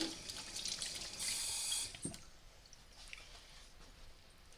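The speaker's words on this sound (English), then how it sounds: "Let me wash the syrup off my hands." Water runs from a tap as syrup is washed off hands at a sink, a faint close splash that swells for about a second before easing into soft trickling.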